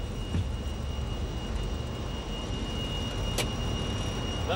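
An airliner accelerating down the runway for takeoff with its engines at full power sends out a steady, loud roar that stays even throughout, with a faint tonal whine riding on top.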